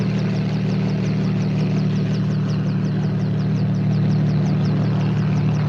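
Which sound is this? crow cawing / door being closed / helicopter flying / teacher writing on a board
helicopter flying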